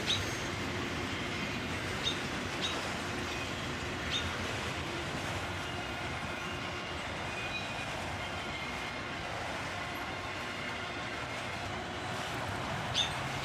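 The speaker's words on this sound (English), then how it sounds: "we have another locomotive" A freight train rolls steadily past with a continuous heavy rumble, occasional clanks and sharp wheel clicks punctuating the long drone.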